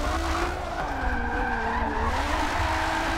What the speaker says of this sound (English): This car is definitely getting sideways.